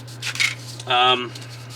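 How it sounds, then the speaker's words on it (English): A short, gritty rasping stroke of a sanding stick on the plastic turret of a 1/16 scale RC King Tiger tank model, about a third of a second long, after a brief softer scrape; close and fairly loud over a steady low hum. "this thing's really eating sanding sticks"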